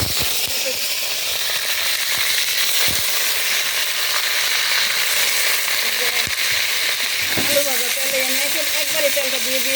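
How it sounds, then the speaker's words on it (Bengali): Farm chicken pieces fry in oil left from frying potatoes, cooked outdoors in a yard over a brick stove, with a steady, close sizzle and hiss throughout, plus occasional stirring clatters. "এখন একটু আলু ভাজা তেলে আমি গোসটা ছেড়ে দেবো, একেবারে একটু ভেজে নেবো"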